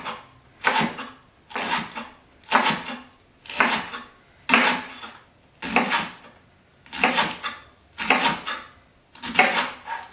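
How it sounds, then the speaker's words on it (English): A kitchen knife slices through leeks on a cutting board, roughly nine crisp, even cuts in a steady rhythm, close and clear, with no talking. "give them a nice slice, either a quarter inch or a half inch slice"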